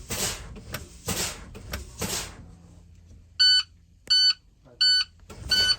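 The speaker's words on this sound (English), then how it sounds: "my low air light and buzzer should come on, indicating low pressure" The low air pressure warning buzzer in a school bus sounds in three short, evenly spaced tonal beeps after some brake air hisses and clunks, close and clear, with no talking.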